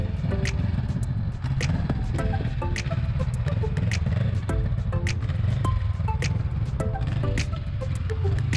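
Motorcycle ridden at walking pace through a slow-control licence test exercise, its engine a low steady rumble under repeated sharp clicks and clatter, close to the listener.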